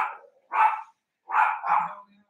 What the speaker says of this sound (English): my dog is barking and I'm waiting for a package from Amazon